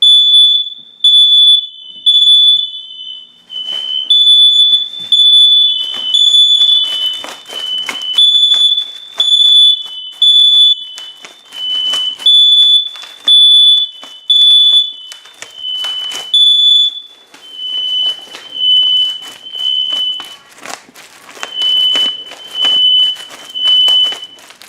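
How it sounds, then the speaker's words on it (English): A home smoke detector sounding during a test, loud shrill high-pitched beeping in repeated bursts with short gaps, plus clattering handling noise. "The one thing there is to hate about testing smoke detectors is getting them to shut off easily."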